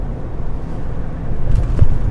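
A Ford Ranger Raptor pick-up accelerates in sport mode, its engine drone rising from a low steady rumble to a louder surge near the end, heard from inside the cabin.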